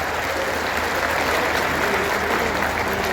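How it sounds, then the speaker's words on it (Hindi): Loud, sustained crowd applause at a public political gathering in Shukratal, Muzaffarnagar, welcoming Yogi Adityanath: dense continuous clapping from many people that fills the whole stretch without letting up. "मैं चाहूंगा जोरदार तालियों के साथ एक बार योगी आदित्यनाथ जी का हम स्वागत करें"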